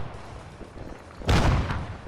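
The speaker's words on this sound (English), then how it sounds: "Got a large barrage of artillery landing around them, but none of them make their mark" An artillery barrage lands in Arma 3, a sudden loud close boom hitting midway after low rumbling, followed by a decaying roar.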